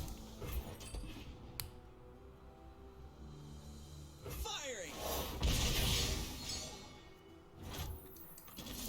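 A shot fires in the digital card game Legends of Runeterra, with Ezreal on the board: a sweeping whoosh rises into a crackling, shattering magical blast. Fairly quiet game effects over a low background, with further impact sounds after.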